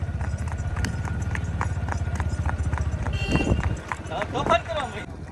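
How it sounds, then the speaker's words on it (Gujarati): A Kathiawari mare's hooves clop along in a quick, even rhythm, close and continuous, while voices talk partway through. "મનુ શર્મા નો ઘોડો હાલે દિલે રેની જેમ હાલે."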